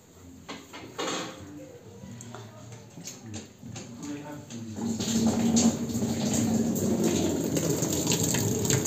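Water runs from a tap into a laundry basin during rinsing, a steady splashing rush that grows louder and fuller halfway through, with a person speaking nearby.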